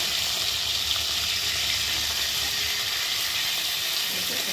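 Fish pieces fry in hot oil while being turned, giving a continuous, even, close sizzle that stays loud and unbroken with no voices.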